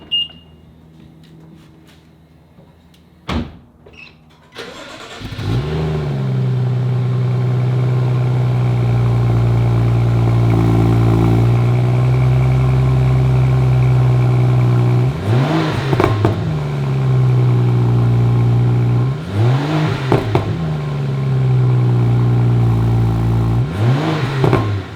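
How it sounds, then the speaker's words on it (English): A BMW 435i with stock exhaust cold-starts after a few clicks, settling into a loud high idle, then revs sharply three times with rising and falling engine pitch, close by. "first we gotta get the stock cold start and some revs"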